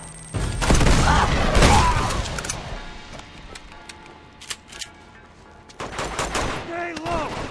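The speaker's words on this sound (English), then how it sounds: "There's a machine gun over there!" Rapid machine gun bursts in Uncharted 2, in a monastery chapter, loud for the first two seconds and then fading into scattered shots, with a second burst near the end and a voice calling out.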